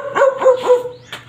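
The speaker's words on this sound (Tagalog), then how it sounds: "Ang ingay kasi itong aso na to." A dog at a house with a river behind it gives three quick sharp barks and a final short yip, close and loud, with no one talking.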